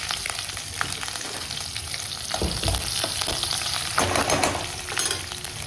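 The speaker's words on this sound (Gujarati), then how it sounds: "મરચાંનો વઘાર કરી દીધો" Cumin, sesame seeds and chilies sizzle and crackle as they are tempered in hot oil, with sharp spattering pops and occasional stirring close by, no voices.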